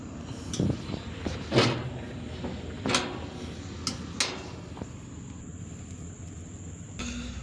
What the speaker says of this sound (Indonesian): Nah, kita buka pintunya.